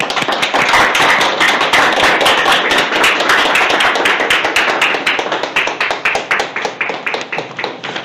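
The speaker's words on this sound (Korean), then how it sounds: "떨리시지 않도록 큰 박수로 맞이해 주시면 감사하겠습니다." An audience claps loudly at an awards ceremony for a recovery slogan contest, with dense, sustained applause that thins toward the end into separate claps.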